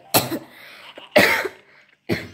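A person coughs three times, each a sharp harsh burst with short rough tails and quiet gaps between, close and fairly loud with no talk.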